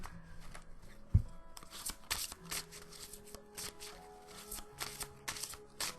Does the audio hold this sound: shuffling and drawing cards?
yes